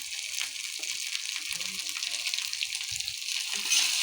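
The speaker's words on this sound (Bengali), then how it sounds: "সব মশলা দিয়ে কষে নেব, তারপর ঝোল দিয়ে দেব পরিমাণ মতো" Potato and lentil fritters frying with spices in a pan give off a steady hiss and sizzle, close and fairly soft, with a few light clinks of stirring.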